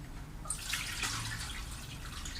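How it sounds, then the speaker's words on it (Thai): Water sloshes and trickles steadily as sand is rinsed in a second wash before planting bulbs, a soft, continuous wet wash with no talking. "ล้างทรายน้ำที่สองแล้วนะคะ"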